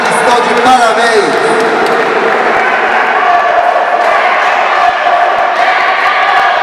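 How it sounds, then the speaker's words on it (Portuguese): A crowd applauds and cheers the two fighters after a Muay Thai bout at the Império MuayThai 5 event, a continuous loud roar of clapping beneath an announcer speaking over the PA. "uma salva de palmas para os dois guerreiros aqui."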